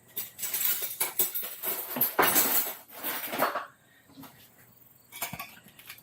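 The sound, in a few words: loosening pizza edges from a Bundt pan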